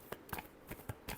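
Tarot cards being shuffled by hand in a few quick, soft riffling bursts, close and fairly quiet, with no talk over them.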